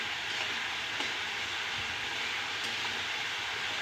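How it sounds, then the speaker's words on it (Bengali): Cauliflower and gram-flour curry with cumin powder stir-frying in a pan, with a steady close sizzle and soft stirring scrapes running without pause. "এবার সব একসঙ্গে ভালো করে কষিয়ে নেব।"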